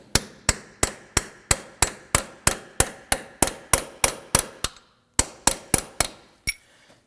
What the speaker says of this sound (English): we're going to use a punch here, put it in the middle, and we're going to go ahead and tap that in